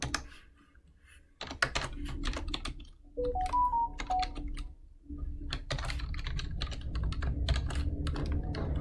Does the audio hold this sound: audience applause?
no